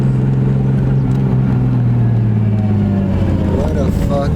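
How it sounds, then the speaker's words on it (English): Turbocharged car running on E85, engine droning steadily up close with loud low tones and a rising whistle toward the end; someone talks over it. "we're still gonna just try to hear that turbo"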